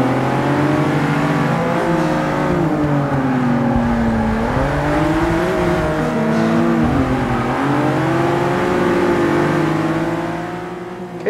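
A Lotus Exige S and a Nissan GTR taken flat out through a corner, engines droning loud and close with rising and falling pitch as revs shift, fading slightly at the end.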